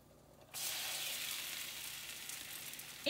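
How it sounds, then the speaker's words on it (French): A keto tortilla drops into a pan greased with avocado oil and sizzles loudly and steadily, a sudden broad hiss starting about half a second in and holding without pause. "On va aller poser notre première tortilla"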